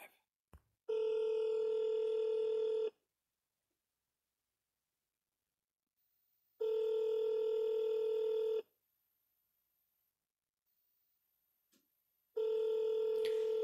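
A phone in the Duskwood video game rings out in long steady electronic tone bursts, three evenly spaced rings about two seconds each separated by silence, clear and close.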